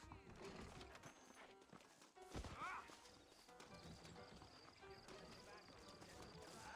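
Horses from the game Red Dead Redemption trot with steady clip-clop hoofbeats and let out a brief whinny, mixed under game music and ambient sound at moderate volume.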